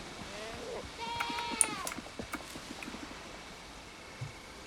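A goat bleats in the sailing survival game Windrose, a wavering cry repeated a few times over a soft ambient background with light footsteps.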